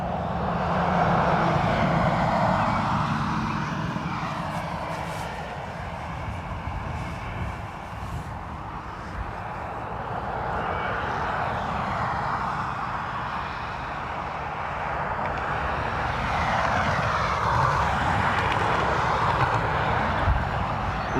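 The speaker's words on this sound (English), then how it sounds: "Ryanair from Madrid." A Ryanair airliner arriving from Madrid at Dublin Airport rumbles past outdoors as a broad jet roar that swells, dips, and builds again over about twenty seconds, heard from the spotting mound without any talk.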